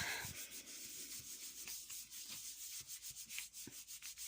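Paper rubbed by hand over a gel printing plate during a stamping craft session, giving a steady, close, dry scratchy rubbing with repeated short back-and-forth strokes and nothing else heard.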